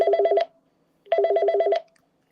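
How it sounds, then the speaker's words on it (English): A Middle Eastern telephone rings with two bursts of rapid warbling electronic tone, each pulsing about five or six times, clear and close with a short silent gap between them. "it has really an interesting ringer which I will play for you"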